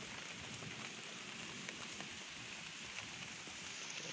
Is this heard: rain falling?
yes